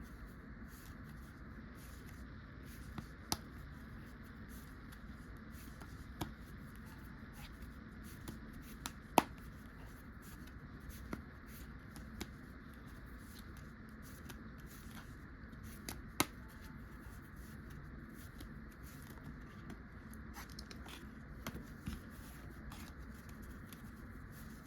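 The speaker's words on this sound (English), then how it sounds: "that is how you do a Hindu shuffle." Playing cards being worked through a Hindu shuffle in the hand, giving soft, close papery slides with sparse light ticks and taps spread across a quiet background, no voice.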